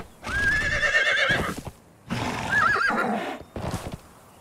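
A horse wearing warhorse armor in the video game Conan Exiles whinnies loudly three times in a row, the last call short, with soft hoof sounds between them; no voices.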